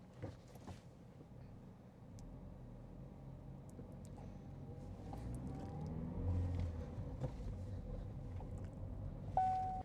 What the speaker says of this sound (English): this is normally how you would drive away from a complete stop using just a little bit of